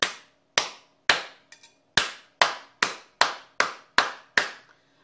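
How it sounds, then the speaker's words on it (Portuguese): Sharp hand claps struck for Pombogira in an Umbanda-style ritual paô, a steady, evenly spaced series of close, dry claps with silence between them and no talking. "Bata um paô de sete palmas para a Pombogira."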